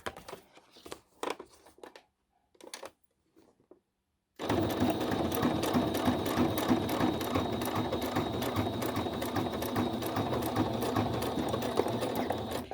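A sewing machine stitches through a thick playing card book, starting after a few seconds of quiet handling noises and then running loud and steady, with a rapid, continuous mechanical chatter.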